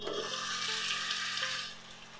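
Marinated chicken, spiced with black pepper and yogurt, frying with onions in white oil in a pan: a continuous bright sizzle with a few stirring scrapes, fairly close and steady, fading slightly at the end.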